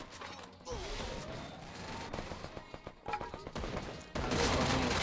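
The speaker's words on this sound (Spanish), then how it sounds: "Hay tiros por todos lados" Rapid bursts of gunfire crack and clatter through a team shooting match at the American Cup, dense overlapping shots from several directions, loud and close, with faint voices mixed in.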